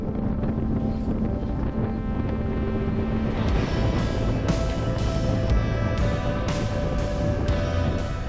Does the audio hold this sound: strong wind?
yes